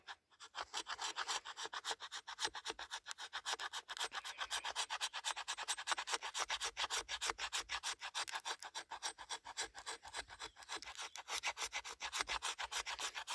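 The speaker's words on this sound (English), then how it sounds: "making some fine shavings off of a piece of fat wood" A knife spine scraping fine shavings off a stick of fatwood with an ESEE Junglas 2, making a steady, fast raspy rubbing that repeats in short strokes throughout, close and alone with no talk.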